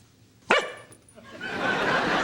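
A Jack Russell terrier gives one sharp, loud woof, followed by a fainter yip a moment later, with an airy indoor hiss rising afterward.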